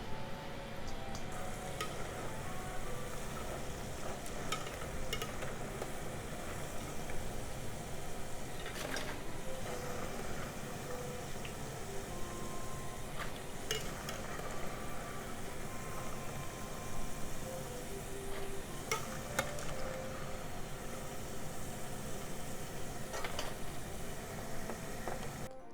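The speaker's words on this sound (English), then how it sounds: "Once it's nicely fried, take them out and drain." Fries frying in hot oil, a steady quiet sizzle and crackle that runs without a break, with occasional small pops and no speech.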